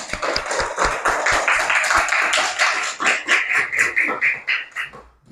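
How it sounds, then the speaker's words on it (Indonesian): A classroom group claps for a student group in a maths lesson, with quick, dense applause from many hands that builds, then thins into scattered claps before fading out. "beri tepuk tangan untuk kelompok"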